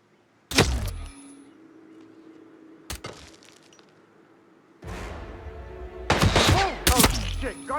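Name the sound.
gunshot in Hitman 3 video game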